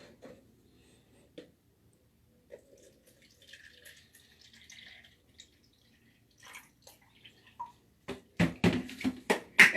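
Water is poured out to measure a single cup for a homemade lemon cleaner, faint quiet trickles and drips at first, then a louder run of splashing pours near the end.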